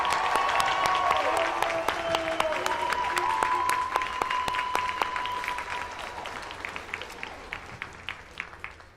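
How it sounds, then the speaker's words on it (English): Parents, family and friends applaud December 2018 graduates at a university recognition ceremony, steady dense clapping filling the hall throughout and slowly thinning toward the end, with a few voices calling out beneath it. "I think it's appropriate at this time for the parents, family, friends to applaud the graduates."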